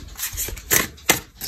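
Tarot cards being shuffled by hand, a run of soft papery riffles and slaps with two sharper bursts, close and fairly quiet with no talking.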